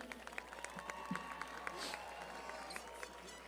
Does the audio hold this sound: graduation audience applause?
yes